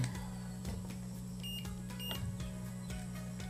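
A continuity tester buzzer sounds a steady, unbroken tone across the shorted flyback of a Samsung slim 21-inch CRT TV, with the B+ line shorted to ground. It is a low, constant hum with no talking.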